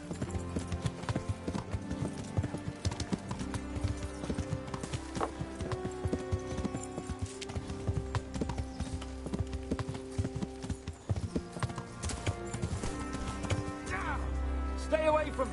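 Horse hooves clip-clop steadily on a road in the medieval video game Kingdom Come: Deliverance, a close rhythmic trot amid game music and ambience, with voices talking over it and a horse whinnying near the end.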